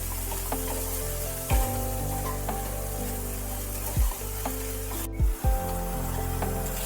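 Banana flower is stirred in a frying pan with salt and turmeric, giving a steady sizzle punctuated by a few dull knocks and scrapes of the spatula against the pan, over a low background hum.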